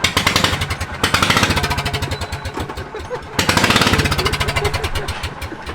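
A golf cart engine with its muffler cut off and a straight-piped exhaust barks in a loud, rapid staccato close by, swelling twice as it revs before settling back.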